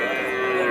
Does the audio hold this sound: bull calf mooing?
yes